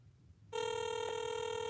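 A landline call rings back: after a short hush, a steady electronic ringing tone cuts in abruptly and holds, clear and fairly faint, with no talk.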